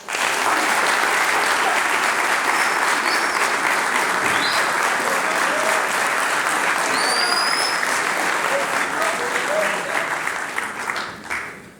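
A ceremony audience applauds the staff of a military-led academic training program at a capping ceremony, a loud sustained round of clapping that fills the hall and fades out near the end.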